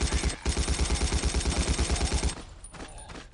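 Rapid automatic fire from an assault gun in Battlefield 1942, a steady loud burst of evenly spaced shots lasting over two seconds, then cutting off into quieter background rumble and a few faint distant pops.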